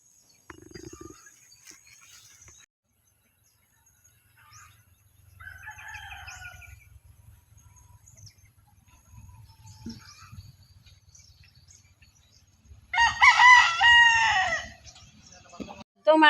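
A rooster crows loudly once near the end, after scattered quieter clucking and soft background rustle.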